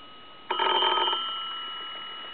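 A German post office telephone's bell rings in one short, even burst of rapid metallic strikes lasting well under a second, then fades into the quiet room.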